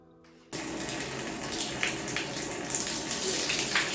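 A shower starts suddenly and then runs steadily, a dense close hiss of falling water with small splashes as it hits a person washing their curly hair.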